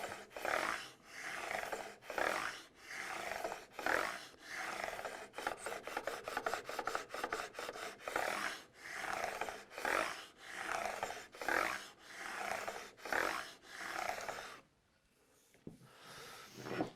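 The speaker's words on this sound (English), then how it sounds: "The question becomes, when do you stop filing?" Steady rhythmic rasping of a file chamfering fret ends on a guitar neck for a Telecaster build, close and continuous strokes that quicken into short rapid passes midway before stopping near the end.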